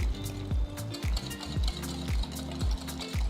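A spoon stirs a dry spice mix of Kashmiri chili powder, cumin powder, coriander powder, garam masala and salt for biryani dalcha, giving a steady rhythmic scraping about every half second, close and clear.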